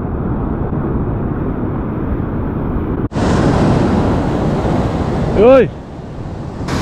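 Sea waves crash and spray over a fishing rock on the coast, a loud continuous roar of surf with wind buffeting the microphone, then a sudden louder burst of spray and a short shout.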